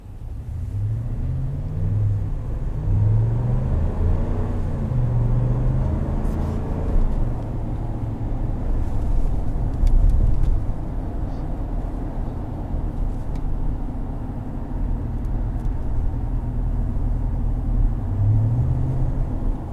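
Low, steady engine and road rumble from inside a 2020 Ram 1500 Rebel pickup as it drives over bumps, a continuous droning cabin hum with occasional soft thumps.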